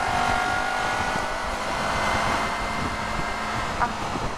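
A 2023 Honda CBR250RR motorcycle accelerates to overtake on a windy road, giving a steady, moderately loud engine hum mixed with heavy wind rush and road noise throughout.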